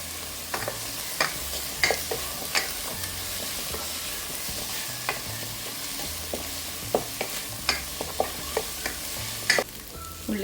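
Onions frying in a pan with salt, stirred by a spoon that scrapes and taps at irregular moments over a steady sizzling hiss, near and moderately loud, with no one speaking.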